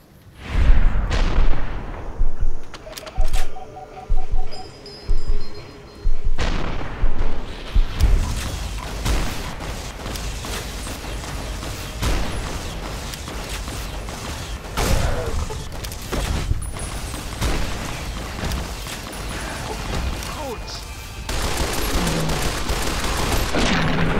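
Gunfire in Fallout New Vegas opens with a rapid run of loud, evenly spaced shots, then gives way to scattered bangs and impacts over a churning combat background, with no voices.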